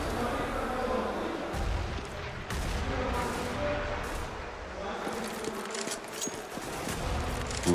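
A grenade blast in Counter-Strike on the Inferno map during a professional match, part of loud continuous gunfire and explosion noise, with a commentator's voice running over it.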